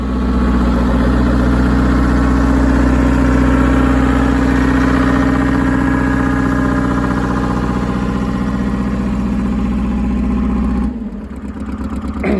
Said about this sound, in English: Well, with that 2-stroke diesel, she's louder than loud, but the old Cockshutt is leaving the shop.